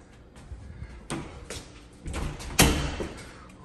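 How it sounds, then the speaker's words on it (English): A closet door is handled and shut in a house, giving a few soft bumps and then a firmer thud near the end, recorded up close in a quiet room. "shut this closet."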